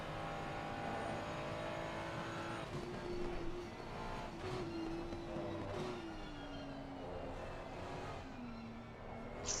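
GT3 race cars, including a Ferrari, racing at the Bathurst circuit, a steady engine drone with gliding pitch as the cars rev and shift, heard from a distance under a continuous broadcast background.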